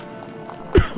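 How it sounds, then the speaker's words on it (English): A single harsh cough bursts out near the end, loud and close, after a stretch of quiet background murmur. "I'm coughing up a storm."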